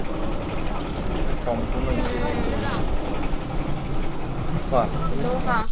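A boat moves across the waters of Chalan Beel with a low, steady engine rumble and water noise, while people talk over it throughout.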